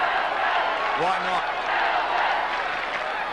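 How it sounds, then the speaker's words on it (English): Melbourne supporters at the MCG during the 1993 Hawthorn match chant their club's name in a brief rising call over a steady crowd roar, with a commentator's voice briefly heard. "Melbourne supporters chant the name of their beloved club."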